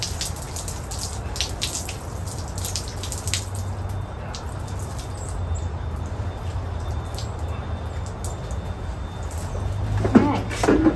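Running water rinses off a vintage basket, a steady hiss with scattered drips and light handling knocks, nearby and fairly loud, with a brief splash near the end.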